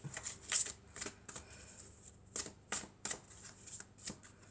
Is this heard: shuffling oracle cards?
yes